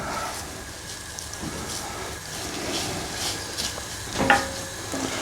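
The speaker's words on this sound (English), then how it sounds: "Now I'm going to add the garlic we grated earlier. Stir that in." Grated garlic is stirred into a sizzling curry base of cooked tomatoes in a pan. A soft, steady crackle runs underneath, with a louder scrape of the stirring near the end.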